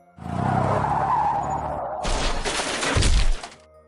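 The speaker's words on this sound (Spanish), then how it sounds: "un autobús había chocado contra un camión" A bus colliding with a truck on a city street: a long loud tire skid, then a crashing impact with shattering glass and debris, alone with no voices.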